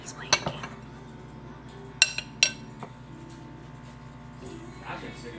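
Lid set on a pot of rice covered with stew, a few sharp metallic clinks and clanks close by, quiet otherwise, with a voice talking around them.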